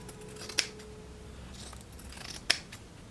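Scissors trim the seam allowance of fabric for an elastic-waist gathered skirt, with two sharp, clear snips about two seconds apart over quiet room tone.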